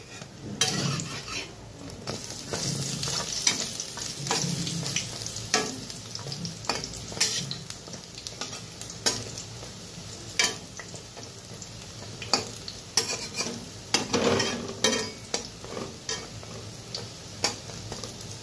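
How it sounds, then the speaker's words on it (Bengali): Squash fritters (boras) frying in a pan, with a steady oily sizzle broken by repeated clinks and scrapes as the spatula flips them, close and without voices. "তো এক পিঠ বড়াগুলো হয়ে গেছে, তো উল্টিয়ে দিই"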